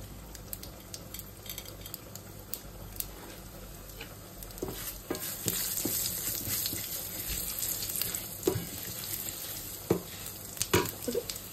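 Urad dal and mustard seeds sizzle in hot oil during tempering for a South Indian tomato chutney, a steady frying hiss broken by crackles and a few metallic utensil scrapes and taps that get busier toward the end.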